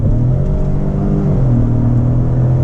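A Lincoln Navigator Black Label's engine holds a loud, steady low rumble from inside the cabin, its pitch shifting midway as the transmission drops a gear, without voices.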